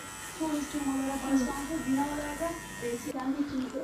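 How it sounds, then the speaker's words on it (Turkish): An electric razor buzzes steadily at close range while shaving a customer in a barbershop, its whine wavering in pitch as it moves over the face, with a voice speaking in the background. "depremzedelere ücretsiz tıraş ediyorum"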